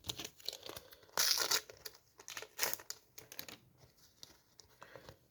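A Panini FIFA sticker pack is torn open by hand, with quiet rustling and crinkling before and after one sharp, loud tearing burst in the middle of the clip and a second shorter rip shortly after.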